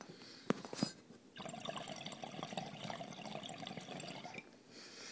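Water bubbles steadily in a bong during a hit, a continuous gurgling burble lasting about three seconds after a couple of sharp clicks, close and fairly quiet.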